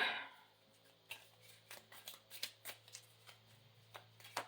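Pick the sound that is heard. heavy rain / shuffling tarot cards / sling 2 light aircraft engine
shuffling tarot cards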